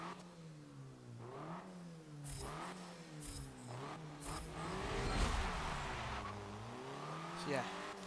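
Hyundai Veloster with a 1.6 turbocharged engine revving through a lap at Watkins Glen in Forza Motorsport 7, rising and falling through gear changes, with someone talking over it throughout.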